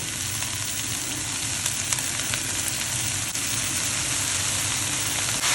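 Chopped spinach for palak paneer sizzles steadily in a hot pan, a dense continuous frying hiss with faint stirring scrapes, close and loud with no voices.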